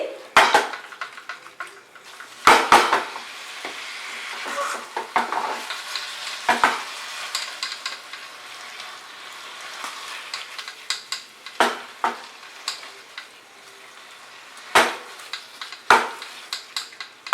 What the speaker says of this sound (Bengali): পনিরটাকে ভালো করে মিশিয়ে নেব